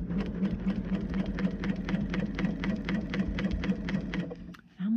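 Sewing machine quilting a whole cloth quilt with rulers and templates, running in a steady, fast rhythmic stitch close up, then briefly stopping near the end.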